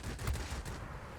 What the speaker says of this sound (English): those turret guns are actually going to start firing more often, which you're actually seeing right here